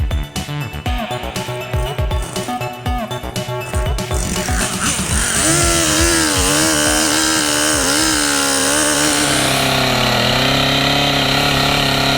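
A chainsaw with a dull chain idles in short bursts, then revs up loud and steady as it bites through wood in a forest, engine pitch wavering under the load.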